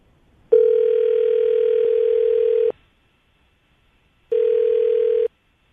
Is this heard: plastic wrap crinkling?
no